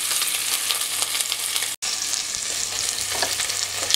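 Pork medallions frying in a pan, a loud continuous close sizzle and spatter with a momentary break partway through, no voices.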